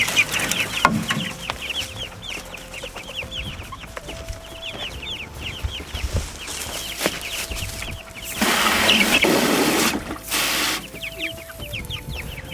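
Many chickens cluck and chatter continuously around a flock, with a louder rushing burst of noise in the middle.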